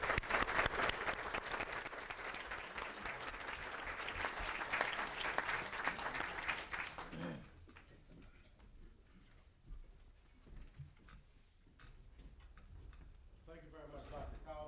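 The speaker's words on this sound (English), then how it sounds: "I wonder if you could all join me in a huge round of applause for our heroes" A lecture audience at Tulane gives a full, loud round of applause for about seven seconds, then it thins to scattered, fainter claps and small noises.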